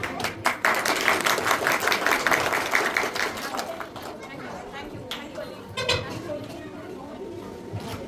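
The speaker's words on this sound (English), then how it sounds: "Please everybody give them a good round of applause." Crowd applause at a school annual function, scattered clapping and chatter, loudest at first, then thinning into background murmur with a brief swell near the end.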